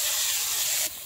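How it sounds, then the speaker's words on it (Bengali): Prawns coated in salt and turmeric hit hot oil in a wok: a loud, close, hissing sizzle that drops sharply in level near the end of a very short burst. "চিংড়ি মাছের নুন হলুদ মাখানো আছে, এটা আমি দিয়ে দিচ্ছি কড়াই তেলে।"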